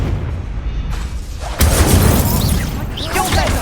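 A Confringo spell blast in Hogwarts Legacy erupts about halfway through as a sudden loud, broad fiery burst that keeps roaring and crackling to the end, after a quieter rumbling stretch, with a voice shouting over it.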